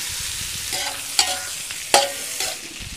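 Chicken gizzards dropped into hot butter, with a steady broadband sizzle and frying hiss, a few sharp clattering stirs and spattering pops standing out near the middle, close and fairly loud with no talking.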